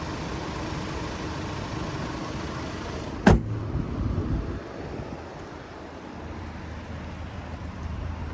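A 2025 BMW 228 Gran Coupe's 2-liter turbo four idling as a steady low rumble, mixed with wind buffeting. A single sharp click lands midway.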